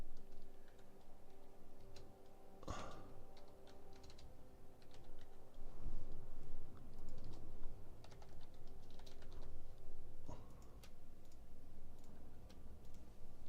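Typing on a computer keyboard during a PC game session. Soft, fairly steady key clicks run throughout with one louder clack near the start, under a constant low game hum and no voices.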